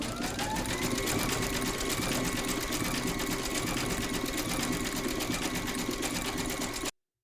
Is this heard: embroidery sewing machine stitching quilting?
yes